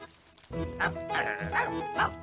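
A cartoon ladybird imitates a sheepdog with a run of yappy, bark-like calls over rainy background noise, repeated several times in an uneven rhythm.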